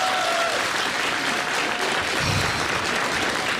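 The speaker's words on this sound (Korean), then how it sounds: "다시 한번 박수 부탁드리겠습니다" A live audience at a Korean political talk event breaks into steady, dense applause that fills the whole stretch at an even, fairly loud level, with no voices over it.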